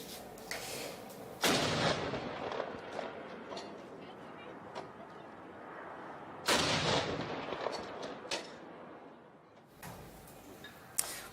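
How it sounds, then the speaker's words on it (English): 21-gun salute of artillery fire in Canberra marking a royal proclamation, three heavy booming blasts spaced several seconds apart across an outdoor crowd, with a reporter's voice talking over the ambience. "The proclamation was marked by a 21-gun salute."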